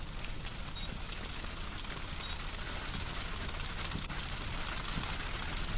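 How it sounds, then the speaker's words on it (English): Hail pelting down during a storm in the Storm Chasers video game, a constant dense patter like heavy rain drumming on a surface, faint and even throughout. "hail."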